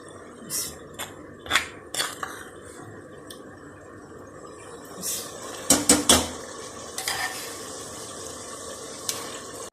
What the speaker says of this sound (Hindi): अब मैं पालक डालने लगी हूँ।